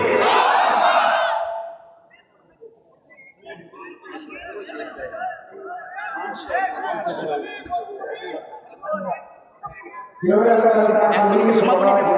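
A large crowd at a Bangladeshi rally roars a takbir chant of Allahu Akbar in loud, massed voices, a burst at the start and another near the end, with a murmuring, chattering crowd between.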